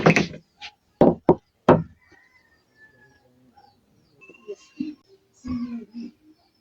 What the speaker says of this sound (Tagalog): pupukpukin natin siya ng martilyo kasi wala tayong dikdikan o yung almirez